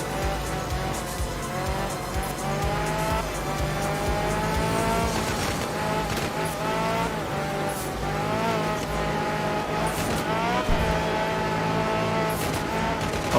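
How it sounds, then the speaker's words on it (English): Rally car engine revving continuously with tire squeal and skidding in the Art of Rally video game, a loud, steady drone with shifting pitch and brief sliding bursts, no talking. "they've kind of approximated the sounds really well as far as simplistic engine sounds go"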